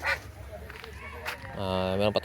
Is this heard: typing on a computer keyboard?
no